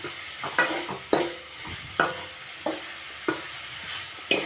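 A spatula scrapes and clatters in a pan at a steady pace, about one stroke per second, over a soft continuous sizzle, while sautéing for tomato chutney.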